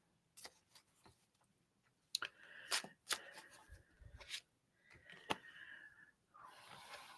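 Tarot cards shuffled and drawn during a live reading: soft riffles, snaps and slides of the deck come in short bursts with pauses between, close and quiet, with no talk.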